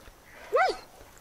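A dog in the Far Cry 5 video game gives a single short yip or whine, brief and moderately clear over quiet game ambience.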